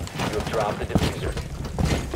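Light machine gun fire from a Rainbow Six Siege match, bursts of rapid shots crackling under a dense mix of game noise and a talking voice, moderately loud and continuous.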